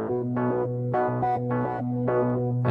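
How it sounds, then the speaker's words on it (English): A raw multitrack stem, with a low resonant sustained note under soft, repeating swelling synth chords, quiet and steady with no voices. "There's obviously a really low resonant note that goes through it."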